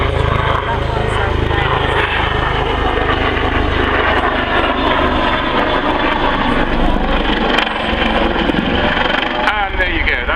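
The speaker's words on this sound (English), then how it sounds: "to see the very first roll by a helicopter that you may have seen this year." Helicopter performing a roll at the Cosford airshow, a loud continuous rotor and engine roar heard from the crowd, with an announcer talking over it throughout.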